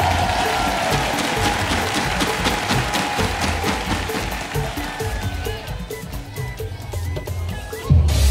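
Studio audience at a televised dangdut singing contest applauds loudly and steadily for several seconds, with dense continuous clapping and a crowd murmur, ending with a thump.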